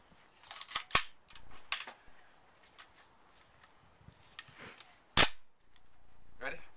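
Rifle shots at an outdoor 50-yard range on a chilly day, several sharp, loud cracks at irregular intervals with quieter handling noise and faint voices between them.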